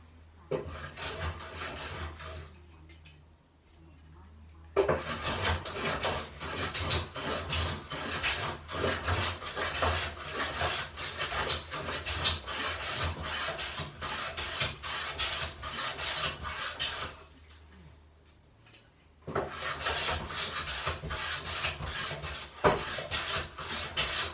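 Hand plane shaving oak timber lightly, taking the minimum off, in long rhythmic rasping strokes with closely spaced scraping bursts, broken by two quieter pauses, close and without speech.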